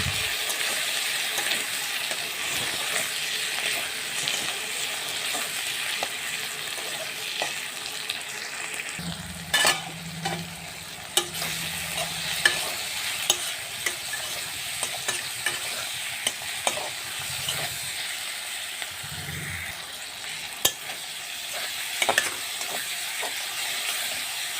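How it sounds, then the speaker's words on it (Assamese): Ginger, garlic, chili and tomato fry in a pan for a fish and tomato curry, a constant close sizzle broken by spatula scrapes and sharp clinks as the mix is stirred, with no talking. "এইদৰে মই ভালকৈ লৰাই লৰাই ভাজি থাকিম।"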